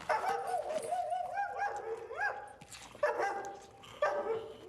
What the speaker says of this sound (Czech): proč se zasranej pes asi štěká?